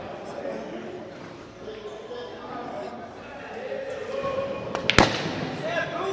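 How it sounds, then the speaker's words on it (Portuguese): In a Brazilian snooker (sinuca) match, a ball struck hard into a pocket gives one sharp, loud knock near the end, following quiet table sounds and background voices. "Realmente tem que jogar forte demais na caçapa para a bola entrar."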